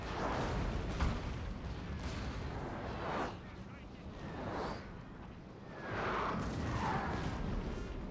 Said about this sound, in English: I'll give them an initial bombardment just to get his cannons off the field.